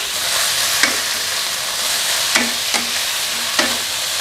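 Kale and cabbage stir-frying in a pan, a steady soft sizzle broken by a few sharp scrapes of a utensil against the metal, close and alone with no talk.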